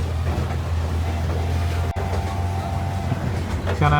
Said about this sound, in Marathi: आता आपली रेल्वे चालू झाली